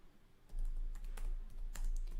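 Someone types a terminal command on a computer keyboard, a run of soft, close key clicks with a couple of sharper taps standing out, and no talking.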